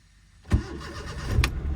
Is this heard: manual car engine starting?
yes